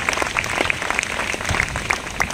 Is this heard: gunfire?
no